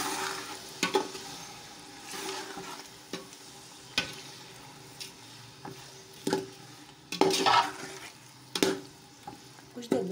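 Yogurt and spices are stirred in a frying pan for chole biryani, with a steady soft sizzle broken by repeated sharp scrapes and clinks of the spoon against the pan.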